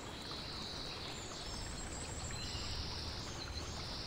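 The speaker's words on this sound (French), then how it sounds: "Tu entends le bruit des oiseaux qui chantonnent." Forest birds give faint, thin chirps high above a steady ambient hiss, with brief whistled calls scattered through the stretch.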